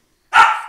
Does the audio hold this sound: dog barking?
yes